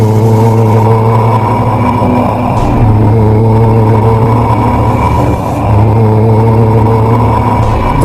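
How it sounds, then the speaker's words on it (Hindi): A car in an animated zombie chase story speeds up, its engine droning loud and steady with rising revs and road roar throughout, no voices. "जैसे ही गुल्ली ने गाड़ी की स्पीड बढ़ाई"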